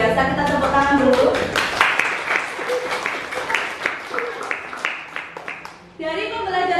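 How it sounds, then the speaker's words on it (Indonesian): A school class breaks into quick, ragged applause that builds and then thins out over several seconds, loud and close, with a teacher's voice cutting back in at the end. "kita tepuk tangan dulu."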